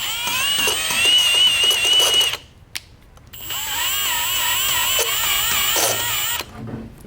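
A valve lapping tool spinning back and forth on a valve seat during an LS1 engine teardown, with a wavering, high-pitched squeak from an unoiled shaft and mechanical rasp, pausing briefly before resuming.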